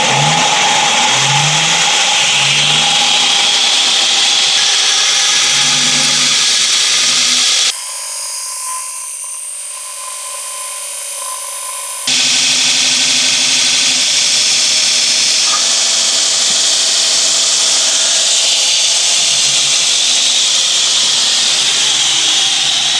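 Belt grinder loudly grinding a metal square clamped in place, a harsh continuous whine that shifts pitch as contact pressure changes, with a brief stretch where the sound thins out before the full grinding returns.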